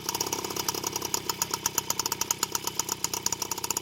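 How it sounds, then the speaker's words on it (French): A two-stroke moped engine idles on its stand while warming up, a steady close putter of rapid regular pulses with no voices. "là on laisse chauffer le moteur"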